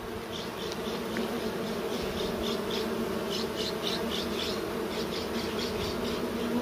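Honey bees buzzing steadily around a rescue hive box, a continuous close swarm drone with individual bees whining past in repeated short bursts, no voices.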